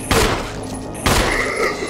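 Two sharp pistol shots in Resident Evil Remastered, about a second apart, each a loud crack with a short ringing tail and no talk between them.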